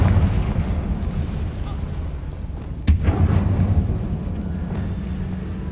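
A Confringo explosion spell in Hogwarts Legacy, a single sharp blast in the middle over a low rumbling game background, with a voice shouting just before it.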